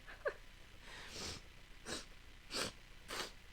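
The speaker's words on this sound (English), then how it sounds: "Oh, my nose has started sniffing." Four short, breathy sniffs through the nose, close and fairly quiet, spaced about half a second apart after a brief click.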